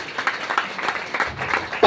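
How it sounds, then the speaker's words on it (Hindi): Audience applause at a marketing plan event, steady clapping from a crowd at moderate distance, continuous and fairly soft. "एक बार जोरदार तालियां बजाएंगे।"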